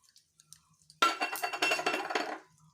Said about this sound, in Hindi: और ये जो मैं कटोरी में ले ली हूँ बेसन, इसको मैं इसमें डाल दूँगी